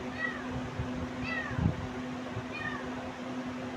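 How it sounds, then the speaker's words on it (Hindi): A cat meows three times at spaced intervals, fairly faint and drawn out, over a steady low electrical hum in a quiet room. "बिल्ली भी आ गई है"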